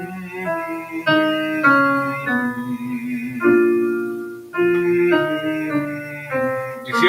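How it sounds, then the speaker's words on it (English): Lip-buzzing singing warm-up, a voice buzzing through the lips in a stepped sequence of sustained pitches, close and steady, with brief breaks between notes. "hear the lips buzzing?"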